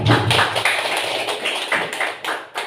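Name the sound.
applause from participants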